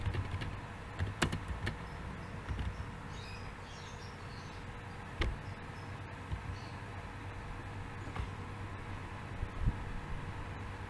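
Keys tap on a computer keyboard in quiet, scattered bursts of clicks over a steady background hiss, with no talking.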